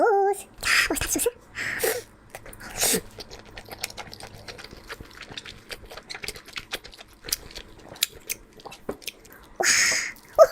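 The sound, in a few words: biting and chewing food dipped in mustard sauce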